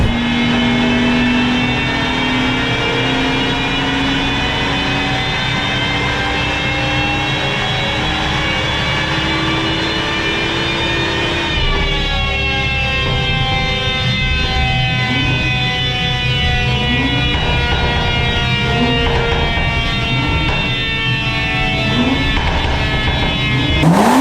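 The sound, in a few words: BMW M140i engine revving on dyno, stage 1 tune, stock exhaust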